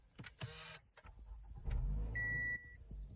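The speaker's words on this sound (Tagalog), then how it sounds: "So ito na yun i-on natin yung sasakyan." A car engine cranks and catches, settling into a steady low idle with a dashboard warning chime sounding over it, heard up close from inside the vehicle after a few brief clicks and a short rushing noise.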